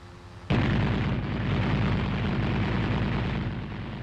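The cupola-mounted .50 caliber machine gun on an M551 Sheridan armored reconnaissance vehicle opens up abruptly after a quiet moment, then roars in a loud, sustained burst of fire that tapers slightly toward the end.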